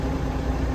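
A big farm tractor idles steadily in a short stretch, its engine giving a constant low rumble with mild vibration and no speech.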